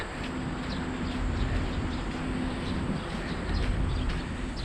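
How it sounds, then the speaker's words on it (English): Faint, scattered bird chirps over a steady outdoor hum, with no voices. "Lots of birds."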